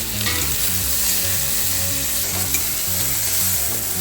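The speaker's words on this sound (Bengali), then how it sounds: "পেঁয়াজগুলো একসঙ্গে দিলাম কারণ ভাজাটা তাহলে সুন্দর হয়" Onions and tomatoes frying together in a pan for a home-style pointed gourd and shrimp curry, giving a steady, close, continuous sizzle throughout, with background music underneath and no talking.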